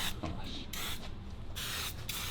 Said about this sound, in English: when you're spraying like chemically harmful paint in your garage